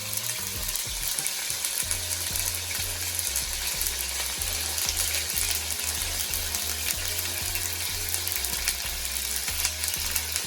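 Sweet pepper fries in a pan while cooking ackee and saltfish, a close, steady sizzle with crackles and soft stirring or scraping knocks scattered throughout.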